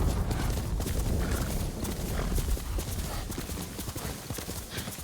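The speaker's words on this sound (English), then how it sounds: "Our horse is called Nobu" Horse hooves clip-clop in the video game Ghost of Tsushima, a brisk, continuous rhythm of hoofbeats at moderate volume, close, with faint sounds in the background.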